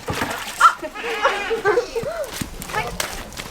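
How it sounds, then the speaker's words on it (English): A goat bleats among a small crowd of people in a cramped farm space, its wavering cries heard briefly under steady nearby talk. "The goat."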